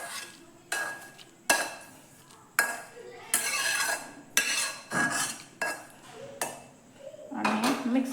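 Roasted chana powder and dry fruits being mixed for ladoos, heard as a run of sharp utensil scrapes and clinks against a vessel, repeating roughly every second, close and fairly loud.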